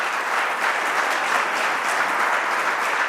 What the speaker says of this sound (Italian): Li accogliamo con un applauso.